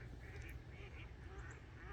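Outdoors in an autumn dawn setting, ducks quack repeatedly in a brief, busy chorus that sounds somewhat distant, over a steady low background rumble.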